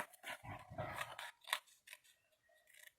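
Small precision scissors cutting Winnie the Pooh printed scrapbook paper, several crisp close snips and rustles in quick bursts, then quieter trimming strokes, no talk.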